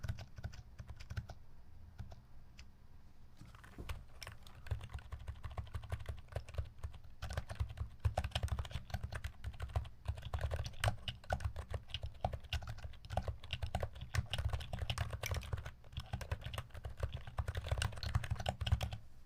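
Clicky mechanical switches on a keyboard fitted with keycaps clatter in fast, irregular bursts of typing, close up and continuous, with short pauses between runs of keystrokes.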